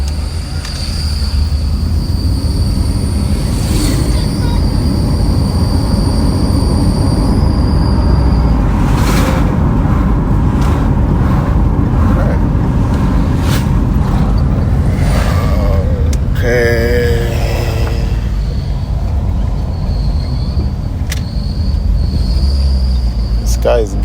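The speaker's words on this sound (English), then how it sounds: "So we'll just drive a little bit just to see how this car also feels out there." A 2012 Ford Escape with a 2.5-liter four-cylinder engine on the road, heard from inside as a constant loud rumble of engine and road noise, with a brief whine partway through.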